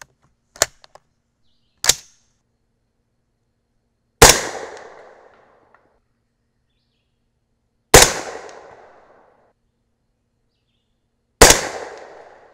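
A 300 Blackout rifle fires 220-grain subsonic Nosler ballistic tip rounds outdoors, three sharp reports spaced several seconds apart, each with a short decaying echo, after two lighter mechanical clicks.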